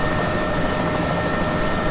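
Bell 206B3 JetRanger helicopter in flight, a steady, loud broadband rotor and turbine roar that fills the whole short span without letting up.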